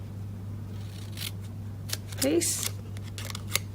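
Scissors snip through wood-pattern designer series paper during card making, a short burst of crisp cutting near the middle under a steady low hum, with someone talking around it.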